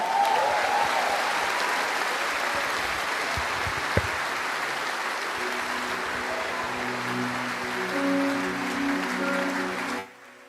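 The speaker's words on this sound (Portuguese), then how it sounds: "Você pode glorificar e aplaudir o nome do Senhor" Church congregation applauding steadily for about ten seconds at a worship service, a broad continuous wash of clapping with faint musical tones underneath, cutting off abruptly at the end.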